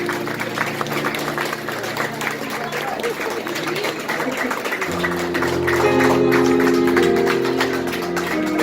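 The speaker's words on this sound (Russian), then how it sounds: "Под ваши бурные аплодисменты" An audience breaks into applause in a hall, steady clapping from many hands swelling louder midway, with a speaker's voice and music sounding over it.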